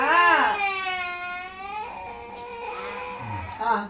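A young child cries loudly and close by, caught up in a fight with a sibling over chicken at mealtime, giving a long, wavering wail that trails off into whimpers.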